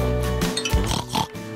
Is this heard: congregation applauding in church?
no